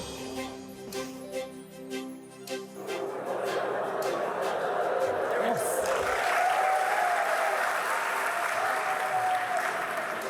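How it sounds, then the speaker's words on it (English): Names are read aloud, and then an audience at a medical school white coat ceremony breaks into loud, steady applause that fills the rest of the moment. "There's always one with spontaneous applause."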